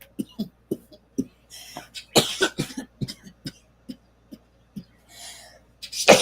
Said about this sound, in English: I have a chronic cough.